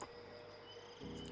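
Crickets chirp in a night forest ambience from the Spirit City Lofi Sessions game, a soft, steady insect trill with a faint hiss beneath, quiet and unbroken.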